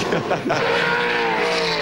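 A V8 Supercars race car, an older VS model Commodore, brakes hard and downshifts with a loud engine roar, while a commentator talks over it.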